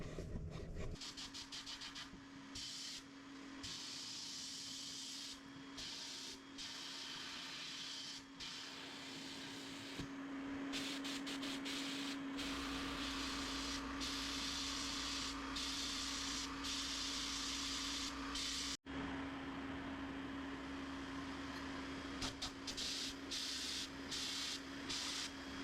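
A sandblaster blasts rust off the sheet-metal louvers of an old Lincoln tombstone welder, a steady hissing roar of grit with short on-off bursts and a constant hum underneath, no talk.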